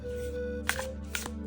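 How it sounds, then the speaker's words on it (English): An oracle card deck is shuffled by hand, giving two quick, soft riffling bursts close by in a quiet room. "And it makes that sound when you shuffle, which I just absolutely love."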